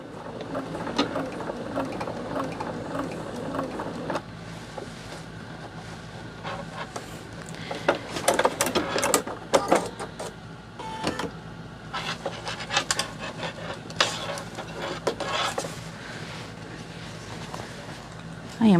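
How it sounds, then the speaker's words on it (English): A sewing machine running in short bursts while making a couple of back stitches, a fast mechanical whirring and clatter that starts, stops and restarts, close up, with no talk over it. "I'm going to take a couple back stitches there."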